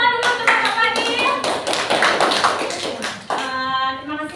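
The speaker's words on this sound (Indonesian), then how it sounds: "Beri tepuk tangan dulu untuk Bapak Fadil." Classroom audience clapping for a participant named Bapak Fadil during a confidence-building guidance session, steady dense applause from a group with a few voices mixed in, fading briefly then swelling again.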